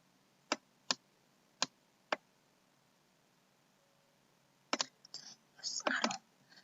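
Several sharp key presses on a computer keyboard while working in an Excel spreadsheet, four evenly spaced single taps and then a quicker cluster of clicks and rustling, close and fairly quiet with no talk.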